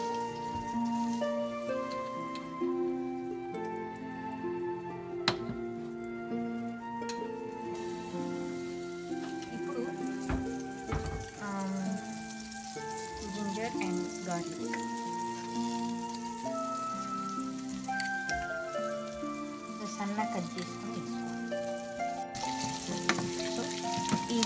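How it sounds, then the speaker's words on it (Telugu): Garlic and ginger fry in butter in a pan, giving a steady crackling sizzle with scattered pops and the odd stirring scrape, heard close and without talk. "గార్లిక్ అండ్ జింజర్ ఇదంతా బ్రౌన్ కలర్ మంచి రోస్ట్ అయినట్టు కదా"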